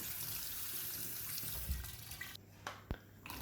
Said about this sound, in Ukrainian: Відварені макарони промиваємо водою